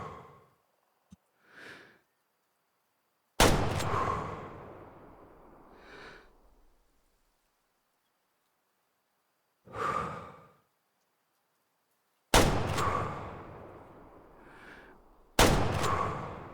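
Three sharp, loud .270 rifle shots in a hunting video game, fired from 25 meters while standing, each cracking out alone with a short decaying tail, separated by long quiet gaps and a few soft breath-like sounds.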